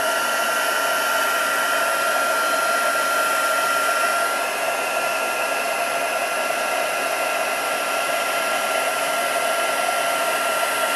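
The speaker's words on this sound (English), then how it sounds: "I'm about to bring in the heat gun" Heat gun blowing to melt embossing powder on a stamped card, a loud, steady close-up roar of rushing air that runs unbroken from start to finish.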